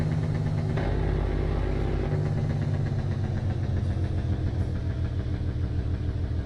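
An engine under stage 1 engine braking, the lightest setting, gives a steady low rumble with a fine mechanical chatter throughout. It runs continuously for several seconds with no voices.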